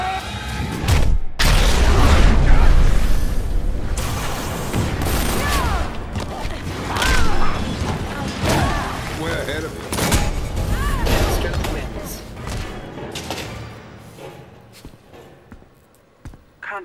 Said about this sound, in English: Fire!